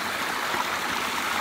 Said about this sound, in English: we're next to a lovely brook